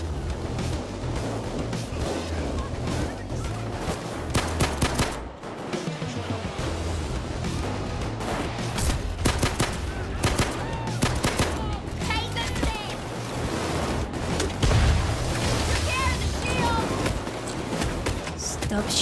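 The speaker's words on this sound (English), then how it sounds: "Stop shooting, please." Dense gunfire in PAYDAY 2 during a jewelry heist: continuous rapid bursts and overlapping shots filling the whole stretch, loud and busy, with in-game voices mixed among the shooting.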